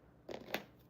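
Scissors trim the ribbon ends for a wreath bow with two quick, crisp snips close by. Each cut sounds faint and short against a quiet room.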